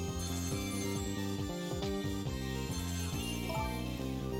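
Telephone ringing in the video game Ghost Trick: Phantom Detective: a steady, dense electronic tone fills the whole stretch with stepped, repeating pitch patterns and high jingling overtones, loud and continuous, with no voices.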